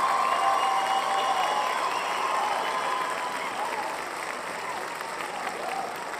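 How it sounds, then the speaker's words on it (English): Applause for the Washington Commanders during a playoff game against Detroit, a steady crowd clapping that starts strong and eases slightly toward the end, with some tonal background sound mixed in. "Another round of applause for the Washington Commanders."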